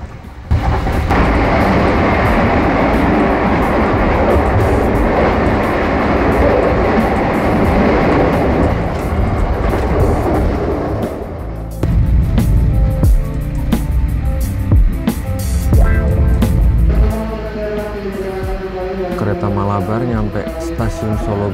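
A Malabar business class train rolls along near 90 km/h, a loud, steady rumble with rattling and thumping, shifting to harsher clanks and squealing partway through.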